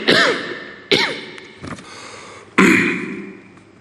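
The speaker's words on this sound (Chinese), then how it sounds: "但背后还是能清楚听见他拿水杯咳嗽的声音" A man coughing repeatedly while giving a live televised speech: three or four harsh, abrupt coughs close to the microphone, each a loud burst fading quickly, separated by short pauses with no talk.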